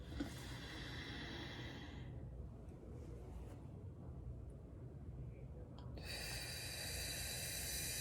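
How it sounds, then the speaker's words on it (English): Deep breaths drawn in through the nose during a guided relaxation, soft and steady airflow with a hissy rush, close and continuous, pausing midway before a fuller inhale returns. "Let's take a few deep breaths together."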